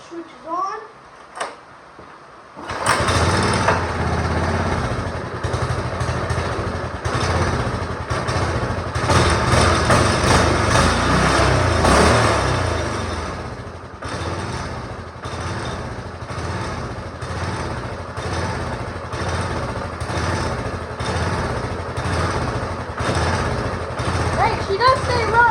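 Small go kart engine with a worn muffler cranking, catching and then running, loud and close with an uneven, sputtering idle that keeps going, after a few quiet handling sounds and brief talk.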